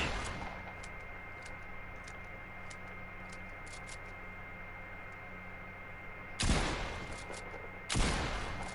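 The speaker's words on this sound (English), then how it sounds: "you can actually shoot through this, but he can't shoot through it as long as you have the right angle" Two sharp gunshots crack out near the end in a first-person shooter game match, each a loud broadband burst after a stretch of quiet ambient game noise with faint ticking.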